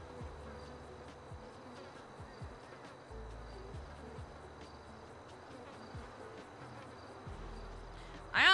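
Bees buzz around backyard beehives, individual insects droning close by with rising and falling pitch as they pass, soft overall, ending with a sudden louder burst.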